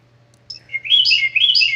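A bird chirps at a camp, a quick run of bright, high tweets that starts after a short quiet moment and continues in rapid clusters, clear and fairly close over a low background hum.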